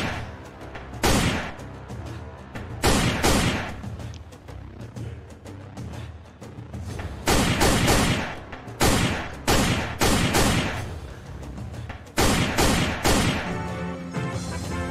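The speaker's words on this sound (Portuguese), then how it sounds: "não tá escutando os tiros, não?" Gunfire in a Chaves 3D animated scene breaks out in repeated sharp, loud bursts, several shots in uneven volleys with short gaps between them, heard alone without talk.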